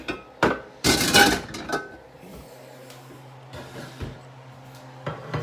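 Glass baking dish handled and set down on a kitchen counter, a few sharp clinks and knocks with a clattering burst early, then quieter scattered taps.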